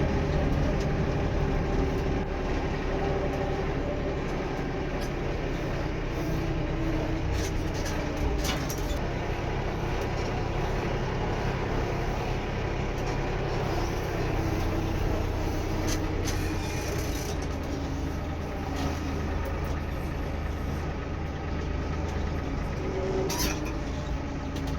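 A tractor engine runs steadily throughout, a continuous low mechanical drone with a rattling rumble that stays close and even, with no talk over it.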